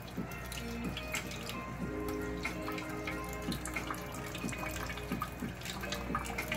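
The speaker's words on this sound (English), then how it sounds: "I think I'm just gonna let all of the water flush through." Water flushing out through an opened valve on a brine shrimp hatchery, a steady close trickle and splash with dripping, running continuously with no voices.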